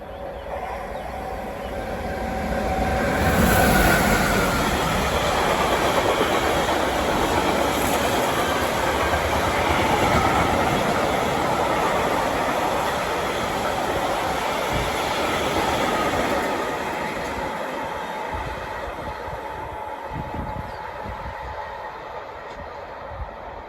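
An Austrian freight train rolls past on the Riedbahn line in Germany. It makes a loud, steady rumble and wheel roar that builds and holds for about twenty seconds, then slowly eases, with no voices.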